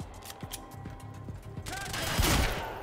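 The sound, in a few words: shotgun fire in video game Quantum Break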